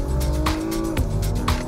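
A 2020 Porsche Macan Turbo crossover launching hard under launch control from about 5,000 RPM, its engine roaring loud and close with gear-shift dips and some tire noise.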